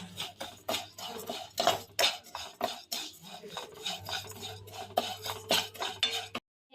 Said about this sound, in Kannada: ಇವಾಗ ಒಂದು ಪ್ಯಾನಿಗೆ ತುಪ್ಪ ಹಾಕ್ಕೊಂಡು ಶಾವಿಗೆನ ಹುರ್ಕೊಬೇಕು.